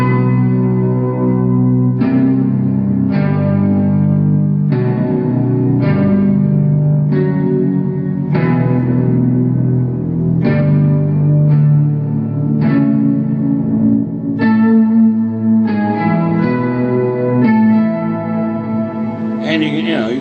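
Electric guitar played through an Eventide effects pedal with the delay switched off, giving a run of distinct strummed chords and notes with a processed, slightly reverberant tone, loud and alone.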